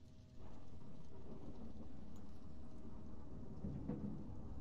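A steady, low rumble of thunder with rain fills a stormy level of the video game A Hat in Time, holding at an even moderate level throughout with no voices.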